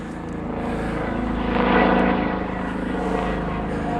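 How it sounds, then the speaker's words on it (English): A low, droning police helicopter engine hum passes overhead, swelling slightly in the middle and then easing, steady and loud with no voices. "police chopper, how rude."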